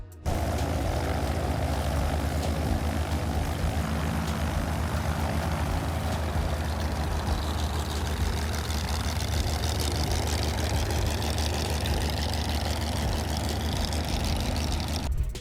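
A steady, loud drone from the twin propeller engines of a Cessna 337 Skymaster, low and continuous throughout, with a rougher rumbling texture and no voices.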